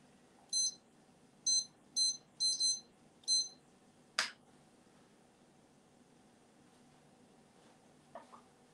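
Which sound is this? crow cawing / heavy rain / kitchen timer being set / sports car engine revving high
kitchen timer being set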